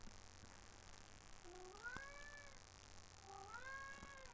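A pet cat meows twice, each a drawn-out, rising then falling call, faint and somewhat distant against a quiet background hiss.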